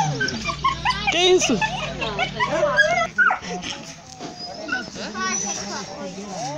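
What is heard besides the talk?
puppies whimpering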